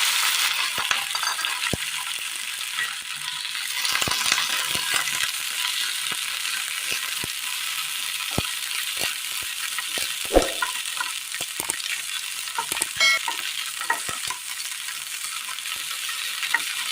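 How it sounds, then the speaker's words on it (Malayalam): Chopped okra fries in a little oil in a pan, giving a steady, even sizzle with occasional clicks and light spatula knocks, close by and with no talking. "അരിഞ്ഞു വെച്ചിരിക്കുന്ന വെണ്ടയ്ക്ക ഇട്ട് കൊടുക്കാം."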